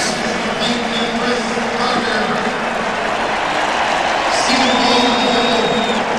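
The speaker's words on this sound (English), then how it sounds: "The crowd didn't need anything to get fired up, but that did it." Stadium crowd at an NFL football game between the Detroit Lions and Minnesota Vikings, a loud, steady, broad roar of cheering that swells slightly toward the end, with no commentary over it.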